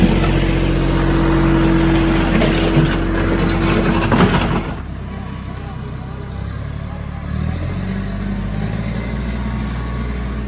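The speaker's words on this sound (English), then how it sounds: "Ryan's about to run me over with the tractor." A tractor engine rumbles continuously nearby while leveling a driveway, with a steady low drone that shifts in tone partway through, as if the machine moves or changes load.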